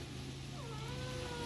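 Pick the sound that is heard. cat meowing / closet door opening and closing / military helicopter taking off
cat meowing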